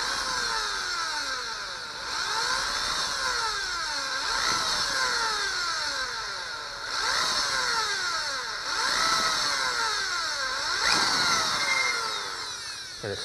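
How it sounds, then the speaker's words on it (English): A power drill whines continuously, its pitch rising and falling in repeated cycles every couple of seconds as it bores through material, no voices. "Gonna switch the drill bit."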